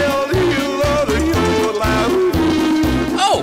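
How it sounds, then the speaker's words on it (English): Looping chiptune-style game music from the Wii shooting game Chicken Shoot, a bouncy repeating melody over a steady thumping bass, loud and continuous with no talk. "First, you've got terrible music that plays on a loop."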